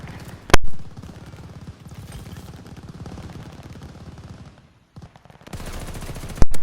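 Rapid automatic weapon fire from Call of Duty: Vanguard rattles in fast bursts at about twelve rounds per second, with sharp loud reports, a brief pause, then another burst.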